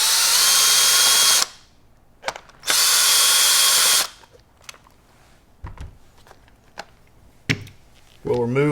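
A power screwdriver whirs in two loud, sustained bursts, backing out the two Phillips head screws on the recoil pad of a Benelli Lupo bolt-action rifle. Scattered clicks and light taps of parts being handled follow, close by.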